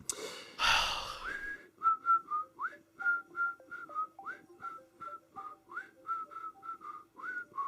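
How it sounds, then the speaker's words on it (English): A person whistles a quick tune of short, faint, separate notes in a steady rhythm, after a louder burst of noise at the start. "I can't whistle very well."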